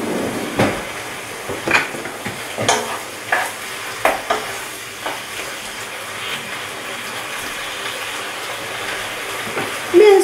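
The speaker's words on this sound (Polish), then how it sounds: "Mięso się ładnie obsmaża." Meat for a Hungarian goulash seasoned with salt, pepper and red paprika frying in a pot: a continuous sizzle broken by repeated scraping, clattering stirs at irregular intervals, close and moderately loud.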